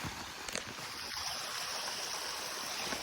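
A river in Vermont rushes steadily past a log crossing, a continuous broadband wash of flowing water heard close by, with a few faint knocks early on and no talking.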